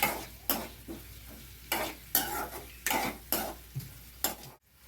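Onions stir-frying in oil for an egg masala gravy, with about a dozen rhythmic scraping stirs and a steady sizzle underneath, close and fairly loud, ending in a brief silence.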